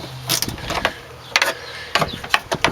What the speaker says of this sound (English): Get them broke loose with this ratchet here.